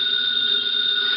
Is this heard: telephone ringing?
yes